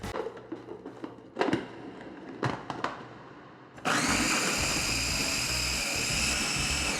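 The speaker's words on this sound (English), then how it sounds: "we're gonna combine our sugar and our lemon zest into the food processor" Food processor blending granulated sugar with lemon zest: a few clatters and clicks, then the motor kicks on into a loud, steady whirring spin that continues to the end.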